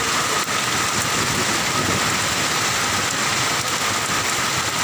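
Heavy monsoon rain pours down on a highway in a dense, constant hiss, drumming hard on surfaces nearby with no letup and no voices.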